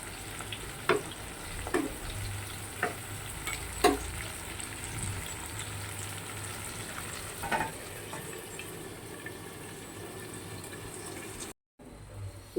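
Fish frying in a pan for a Bengali fish dish, a steady close sizzle with occasional stirring clicks and scrapes and no talking, cut off briefly near the end.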